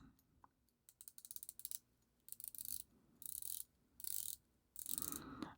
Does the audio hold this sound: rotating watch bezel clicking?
yes